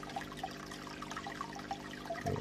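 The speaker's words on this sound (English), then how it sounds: "air stone blowing all kinds of bubbles" Faint, steady bubbling and trickling from an air stone in an indoor fish tank, with the filter running quietly underneath in a continuous wash of small water sounds.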